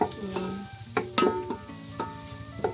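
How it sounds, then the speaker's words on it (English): Chopped onions heat in oil in a pan over a village cooking fire, giving a close, steady sizzle broken by repeated scraping stirs. "to at least heat them with some oil"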